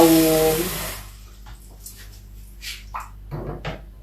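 Fanta poured into Indomie instant noodles, a brief loud fizzing pour at the start fading into quiet bubbling and faint clinks.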